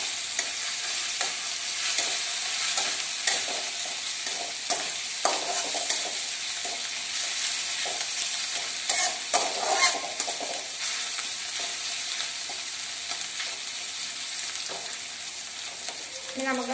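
Chopped green chillies frying in a pan for a Kerala-style chicken dish, a bright continuous sizzle with frequent scraping stirs of a spoon against the pan, close and steady throughout.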